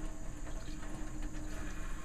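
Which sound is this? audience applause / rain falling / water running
water running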